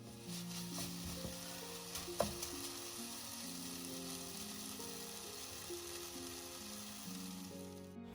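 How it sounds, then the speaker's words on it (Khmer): Roasted black sesame seeds stirred with grated coconut in a pan, giving a steady, quiet frying hiss and soft scraping throughout, with a brief clink early on and a low hum underneath. "យើងកូរត្រឡប់វាជាមួយនឹងសាច់ដូងឲ្យចូលគ្នាបានសព្វល្អ"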